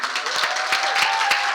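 An audience applauds and cheers for a speaker at an innovation talk event, dense continuous clapping filling the short moment, close and lively.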